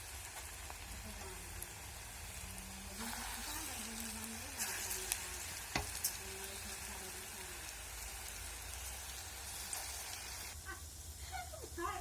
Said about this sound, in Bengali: মিডিয়াম একদম লো ফ্লেমে এটা ভাজতে হবে, আর নাহলে ভিতরে কাঁচা থেকে যাবে